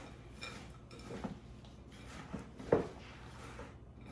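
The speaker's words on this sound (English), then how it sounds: "Now we're just going to mix all this together." Waldorf salad ingredients being stirred in a bowl at a home kitchen, with soft scraping and light clinks of a utensil against the dish, one sharper knock midway, fairly quiet and close.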